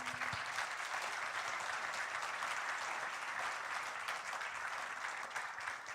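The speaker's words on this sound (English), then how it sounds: "let's give them all a big round of applause." Conference audience at an Indonesian energy transition launch event giving a sustained round of applause, a steady, even wash of many hands clapping with no talk over it.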